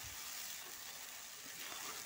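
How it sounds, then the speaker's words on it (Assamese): Potato pieces fry in a pan of oil, a quiet, steady sizzle that stays even throughout, with no voices. "এতিয়া আলুখিনি ভাজি হ'লত তাতে মই ভেদাইলতাখিনি দি অকণমান সময় ভাজি ল'ম।"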